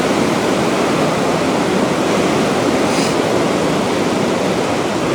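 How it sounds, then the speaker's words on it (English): Strong wind roars steadily and loudly on a high mountain road near Likche village in Ladakh, a dense broadband rush that never lets up across the whole stretch, with no voices. "How the hell windy are you? Bloody wind."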